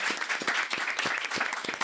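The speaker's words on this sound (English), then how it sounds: "if we could all give a real strong round of applause and just thank our panel." An audience at an education conference session in Somerset, New Jersey applauds its panel, a steady wash of clapping with a few louder individual claps standing out, continuous throughout.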